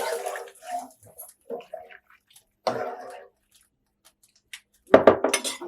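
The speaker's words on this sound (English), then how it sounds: "Gonna stir." A spoon stirs Spanish rice in a cooking pot, giving sparse scrapes and soft clinks with quiet gaps between them, then a louder burst of clattering near the end.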